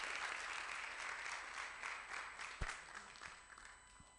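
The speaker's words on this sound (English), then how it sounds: "So let's welcome Dixon Ejay with a round of applause." A room full of people at a Software Freedom Day event claps steadily to welcome a speaker, a dense, even applause with a couple of sharper knocks toward the end.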